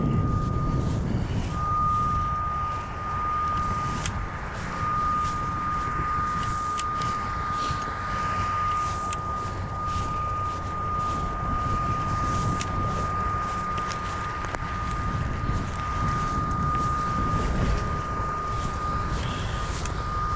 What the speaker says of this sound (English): You probably can hear the wind blowing.